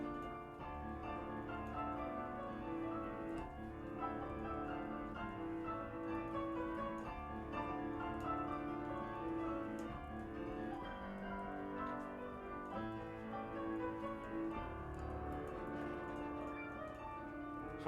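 G4M Sonori digital baby grand piano playing a sustained chordal passage at modest volume, notes blending smoothly with pedal-like sustain, steady and continuous without speech.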